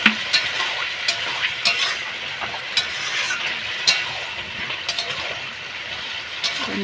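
A spoon stirs jackfruit and prawn curry frying in a pan. Soft scraping clicks repeat irregularly over a low, steady sizzle, close up with no talk.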